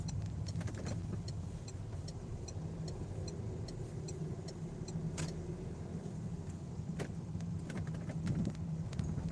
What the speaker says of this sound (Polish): Patrzcie jaki błękitny bus jedzie.